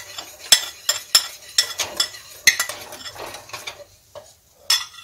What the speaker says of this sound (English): Start stirring, yeah? Yeah, start stirring.